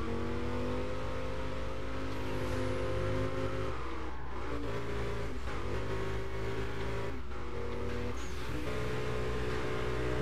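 Burnout Paradise racing: a loud, continuous car engine drones near and steady, with brief dips and surges as the game car races along, no talk over it.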